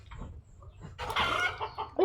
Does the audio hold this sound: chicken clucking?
yes